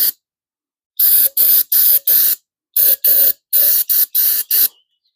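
Cleaner sprayed in short bursts onto the steering parts of a Simplicity Prestige garden tractor: about eleven sharp hissing puffs, near and loud, in quick irregular groups with brief pauses between.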